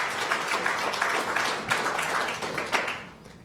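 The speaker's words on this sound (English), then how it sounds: "You can do a round of applause on that one." Applause breaks out at a city council regular session in Tucson, a steady patter of many hands clapping at moderate distance for a few seconds before tapering off.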